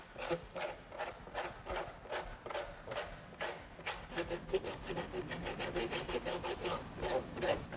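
Rhythmic back-and-forth rasping of hand sanding on hard fiberglass, close and fairly quiet, with strokes speeding up toward the end.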